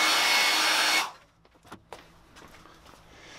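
A heat gun blowing hot air to warm motorcycle adhesive on a 2017 Kawasaki Z125 Pro: a loud, steady broadband rush for about a second, then it cuts off, leaving faint handling taps and knocks.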